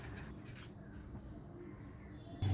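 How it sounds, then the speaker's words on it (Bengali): Paneer cheese grated by hand in a home kitchen, a soft, steady rasping scrape repeating close up and fairly quiet, with no talking. "এবার এটাকে আমি এভাবে গ্রেট করে নেব"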